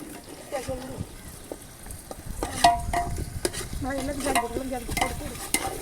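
Onions and tomatoes sautéing in a pan for chicken and quail biryani, a continuous sizzle broken by the scrape and clatter of a spoon stirring, while someone talks over it close by.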